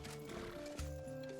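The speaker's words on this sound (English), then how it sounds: "I'm just glad we found the horse." A horse in the Skyrim video game whinnies, with hoof clops alongside, moderately close over steady game ambience.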